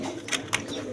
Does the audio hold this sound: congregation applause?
no